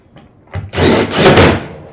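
Fastening barrel vault roof tiles during a direct bend-up install, heard as a short burst of power-tool driving that swells loud twice across about a second, preceded by quieter handling.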